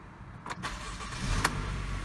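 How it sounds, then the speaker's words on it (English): A Chevy Malibu engine with a dual battery fault cranks briefly then catches and settles into a low, steady running rumble, heard fairly close. "So I'm going to go ahead and crank it."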